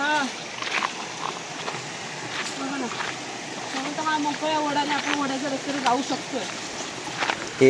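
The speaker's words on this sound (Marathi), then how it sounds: "हे सगळं ओढाचं पाणी इथपर्यंत येतं" Water from a stream flows in a steady, close rush below Dhumalwadi waterfall in Phaltan, Maharashtra, while people talk over it throughout.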